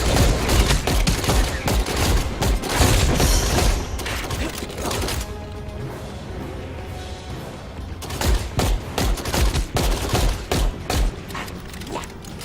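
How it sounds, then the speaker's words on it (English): Quick pistols firing rapidly in the video game Nosgoth, dense loud bursts of shots with mechanical clatter, a brief lull near the middle, then more rapid firing. "These quick pistols do have a great rate of fire."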